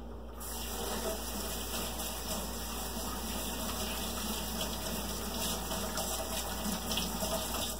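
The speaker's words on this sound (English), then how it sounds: "Let me wash my hands." Running tap water pours steadily in a kitchen while hands are washed beneath it, a continuous close gush with no talking.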